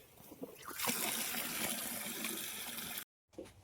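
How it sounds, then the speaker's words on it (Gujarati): Water gushes steadily from a farm tap, a loud continuous splashing rush that runs for about three seconds, cuts off abruptly, then briefly resumes. "દોઈ નાખી નળ શરૂ કરી."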